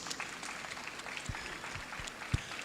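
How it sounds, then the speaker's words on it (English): An audience applauds at a formal anniversary ceremony for the Emir of Zazzau, a moderate, fairly soft spread of clapping with a few louder low thumps standing out near the end. "a round of applause, please"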